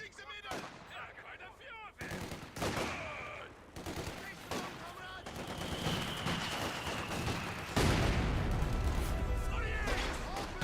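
PTRS anti-tank rifles fire a volley amid the battle sounds of Company of Heroes 2, with several sharp cracking shots and booming impacts over dense game noise, while a commentator talks throughout.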